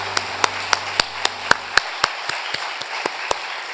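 A church congregation claps in a slow, even rhythm: about a dozen sharp, distinct claps spaced evenly, fairly close, over a quiet background.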